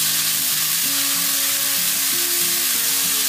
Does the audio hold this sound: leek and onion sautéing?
yes